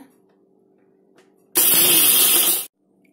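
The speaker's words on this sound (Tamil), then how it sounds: "கரம் மசாலாவையும் இதிலே சேர்த்துக்கிறேங்க எல்லாத்தையும் ஒன்றா போட்டு அரைச்சிக்கிறேங்க" A mixer grinder coarsely grinds a capsicum rice spice mix with garam masala in one loud, steady burst of about a second, with a quiet hum before it and abrupt silence after.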